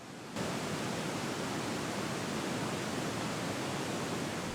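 Oven fan running in a kitchen as background noise, a steady, loud broadband whoosh that starts abruptly and then holds constant with no speech over it.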